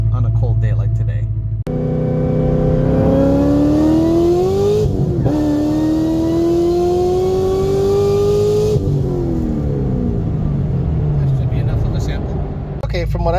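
Corvette ZR1 V8 on a cold-day 2-3 gear pull, loud and close, climbing in pitch through one gear, a brief shift break, then climbing again before backing off, with talk over the start and end.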